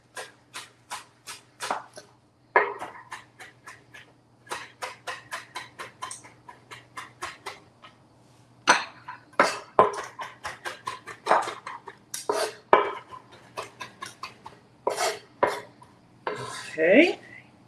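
Knife chopping scallion (green onion) on a cutting board, a long series of crisp, close taps, evenly spaced at first, then faster irregular bursts, with no talking.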